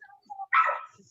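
A single short, sharp dog bark rings out at moderate volume, with faint chirps and shuffling before and after it.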